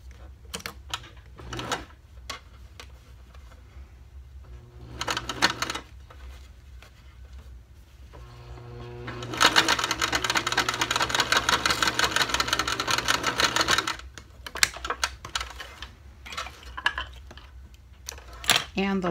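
Sewing machine stitching darts on a baby bib bandana face mask: short rapid mechanical whirring bursts, with a longer sustained run of stitching in the middle, close-up, between handling clatter.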